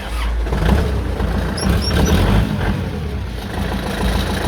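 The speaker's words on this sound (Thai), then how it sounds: "เดี๋ยวเราลองมาสตาร์ทฟังเสียงเครื่องยนต์นะครับ" A Kubota L4508DI tractor diesel engine idles steadily and smoothly, a low rumbling chug that holds even throughout with no voices.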